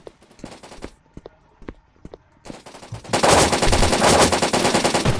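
Automatic gunfire in the BLOCKPOST online shooter game: a few scattered sharp shots, then a loud sustained burst of rapid machine-gun fire filling the last two seconds.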